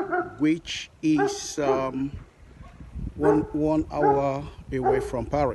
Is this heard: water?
no